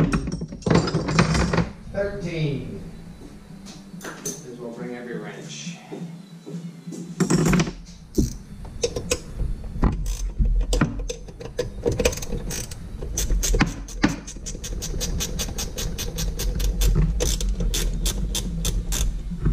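Ratchet wrench clicking on bolts during engine removal from a Sea-Doo RXT-X personal watercraft, starting with scattered clicks that build into a long run of rapid, steady ratcheting up close, with someone talking early on.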